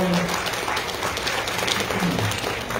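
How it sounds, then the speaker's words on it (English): An audience applauds the dads at an event. The applause is short and dense, and voices murmur through it. "All right, give all the dads another round of applause."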